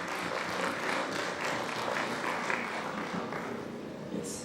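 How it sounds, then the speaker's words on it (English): An audience at a Chandigarh entrepreneurship conference applauds a minister, a steady, moderately distant wash of clapping that continues evenly from start to end. "Huge round of applause,"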